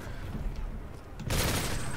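Video game gunfire in Call of Duty Ghosts: a dense burst of rapid shots erupts after quieter game ambience, loud and sustained to the end.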